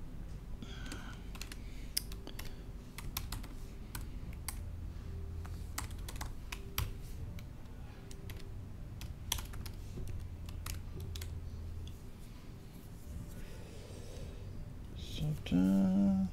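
Steady, close typing on a computer keyboard during PHP and SQL coding, a continuous patter of quick key clicks over a low room hum, with a brief louder clatter near the end.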